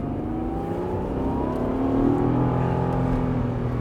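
A Honda NSX sports car engine revs and pulls under load, a steady loud droning roar whose pitch climbs and falls through the gears, heard from inside with no talk.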